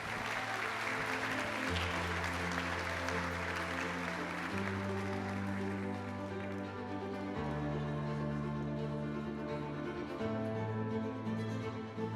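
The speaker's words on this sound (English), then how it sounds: "A big applause to Rosita." An audience at the Gourmand Awards ceremony in Cascais applauds steadily, with dense clapping heard alongside sustained musical tones that change pitch every few seconds.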